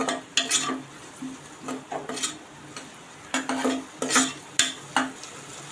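Chopped onion with grated ginger and garlic sautéed in oil, a soft sizzle broken by repeated scraping strokes of a spoon against the pan, close and irregular, with no voices.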